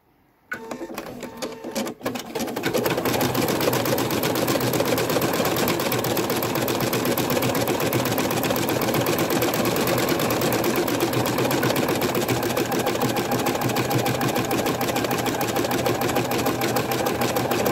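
A Viking Designer embroidery machine stitches minky fabric held in a 180x130 magnetic hoop. After a brief quiet start, it runs as a steady, close, rapid mechanical chatter with no pause and no talking.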